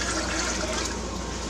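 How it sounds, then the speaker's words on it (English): Three cups of white vinegar pour into a measuring cup as one steady, full rush of liquid that runs unbroken and fairly loud throughout. "3 cups of white vinegar in."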